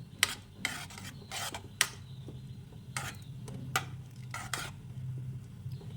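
A rice flour mixture stirred in warm water in a pot on a gas stove, giving a run of short, quiet scraping strokes at an uneven rhythm over a low background hum, close and without talk.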